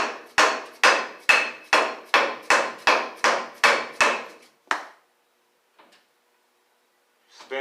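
A hammer strikes an axle bearing retainer on a 1955 Chevy rear axle in about ten sharp, evenly spaced, ringing metallic blows, followed by one last hit, then near silence with a few faint clicks.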